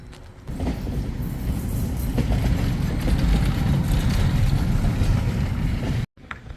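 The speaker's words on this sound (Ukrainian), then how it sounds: "Он трамвай." A tram passes close by in a residential area of Pushcha-Vodytsia, Kyiv, giving a steady loud low rumble of wheels on rails that holds for about six seconds before cutting off abruptly.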